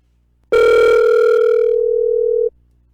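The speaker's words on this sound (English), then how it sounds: "I hope that person is ready to pick up the phone." An outgoing telephone call produces a single steady ringback tone that starts abruptly, holds loud and clear for about two seconds, then cuts off into near silence.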